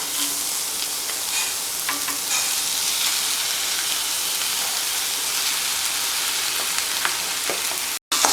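Chopped carrots sizzling steadily in a hot pan with a few light stirring scrapes, the frying hiss continuous and close before a brief cut near the end.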